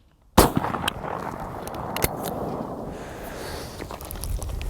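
Perazzi MX-15 shotgun fired once at a trap shooting range from 40 yards back, a single sharp loud blast followed by outdoor wind and faint distant pops.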